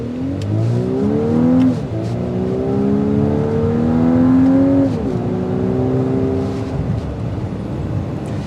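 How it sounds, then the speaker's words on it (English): A 2024 Volkswagen Atlas SEL four-cylinder engine accelerates through several gear changes, its pitch climbing and dropping repeatedly under steady road noise from inside the vehicle. "The engine noise is going to sound more like a 4-cylinder"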